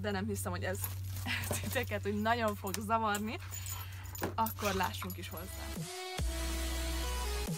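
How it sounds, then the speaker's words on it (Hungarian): A dog in a garden makes faint whimpering yips and jangles in the background while someone talks steadily up close over a low hum. "Háttérben egy kis zajt hallottok, akkor bocsánat, ez a kutya."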